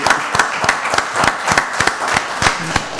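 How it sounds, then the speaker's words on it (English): A small group claps for a band leader at a county board of commissioners meeting, sparse rhythmic handclaps in a steady beat, close and moderately loud. "Let's give him a round of applause"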